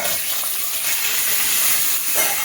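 Curry leaves sizzling in hot coconut oil for a kovakkai and cashew thoran, a steady loud hiss and crackle of frying that fills the whole stretch without pause.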